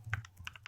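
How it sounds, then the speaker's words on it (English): Fingers type on a computer keyboard, a handful of quick, light key clicks in an uneven rhythm, close and fairly quiet. "If I can type it correctly, here we go."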